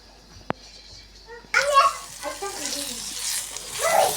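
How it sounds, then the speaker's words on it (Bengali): Shrimp frying in a pan for a home-cooked meal: a single sharp click, a quiet moment, then a loud, close sizzle that bursts in and keeps crackling steadily to the end. "আর এখানে ছেলের জন্য চিংড়ি মাছ একটা ভাজি করে দিচ্ছি।"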